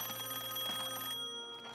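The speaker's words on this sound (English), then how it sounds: "out of the blue, the phone rings" A telephone rings in a SpongeBob cartoon episode, a bright bell-like trill repeating steadily and fairly loud for most of the moment, then cutting off and leaving a brief quiet tail.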